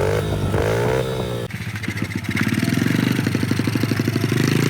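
Small pit bike motorcycle on open BLM land in Utah: a brief revving, then a sharp drop into a rapid, buzzing single-cylinder putter that steadies and builds, loud and close throughout.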